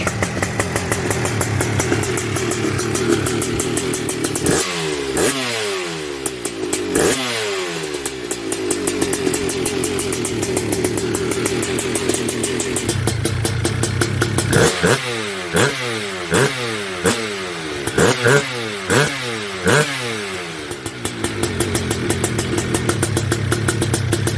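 A Honda TRX250R ATV engine runs on its original factory ignition, slightly rich. It idles unevenly and close, broken by several sharp revving bursts, with no talking.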